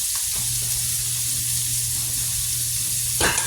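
Butter sizzles steadily in a hot frying pan, making a continuous close hiss with a faint low hum beneath and a brief clatter near the end.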